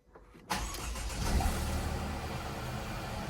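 A car engine is started after an oil change: a short crank, then it catches and settles into a steady, fairly close idle, with no talk.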